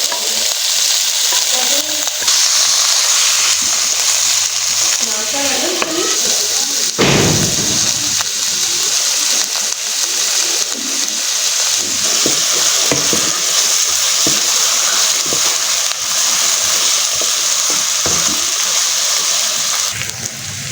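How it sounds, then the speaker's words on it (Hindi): Onions frying in ghee in a pan, a constant loud sizzle with stirring scrapes and a sharp hiss burst partway through, no voices. "प्याज को डाल देंगे और फ्राई करेंगे"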